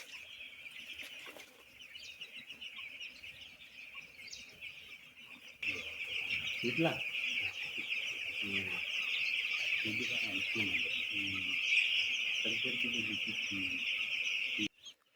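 Many chickens cluck and chatter continuously inside a poultry shed holding thousands of birds, with a steady high chorus and occasional wing flaps, growing louder midway.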